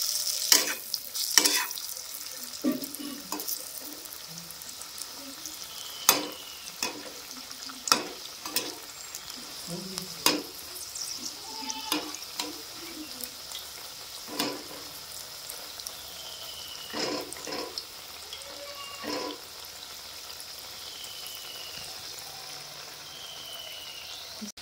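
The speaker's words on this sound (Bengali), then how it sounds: "একদিক ভাজা হয়ে গেছে, এরপর কিন্তু উল্টে পাল্টে পকোড়াগুলো ভেজে নেব।" Cabbage pakoras sizzle softly in a pan of oil while being flipped, with scattered clicks and scrapes from turning them over a steady fizz, no talk.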